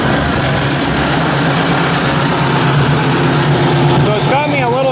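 A Ford 800 tractor engine idles with a steady low rumble throughout, close and loud, with a brief whine near the end.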